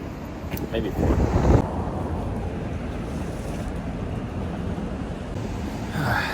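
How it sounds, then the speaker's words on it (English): Strong wind buffets the microphone on Jeju Island in a loud, continuous roar with heavier gusts early on, and water or surf washing faintly beneath. "Today's a very windy day"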